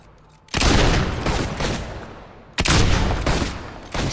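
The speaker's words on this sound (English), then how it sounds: "I'll shoot you with this blunderbuss" Two loud, booming blunderbuss blasts from Fable 2, each a sudden close burst that rings and decays over about two seconds, with no talking in between.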